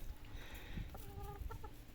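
Chickens cluck in short bursts against steady outdoor background noise, with a few brief harmonic calls near the end.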